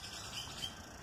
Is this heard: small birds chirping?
yes